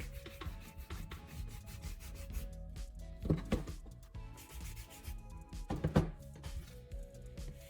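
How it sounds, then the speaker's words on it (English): Polishing wax being rubbed across a leather strop, a soft scuffing friction in uneven back-and-forth strokes, faint and close, with a few louder swipes and no talking. "I rub a thin layer of polishing wax across the leather."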